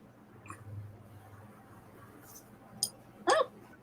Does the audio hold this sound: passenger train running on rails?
no